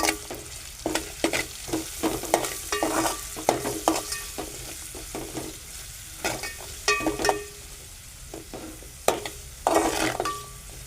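Onions sautéing in a pan for a dry soybean sabji, with steady frying sizzle and repeated sharp scrapes and clinks of a spoon stirring against the pan, close and loud with no talking.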